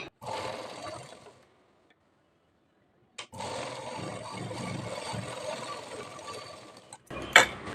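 A sewing machine stitches a half-inch dart on a princess-cut blouse in two runs, a steady close mechanical whir that stops for about two seconds in between and ends with a short burst.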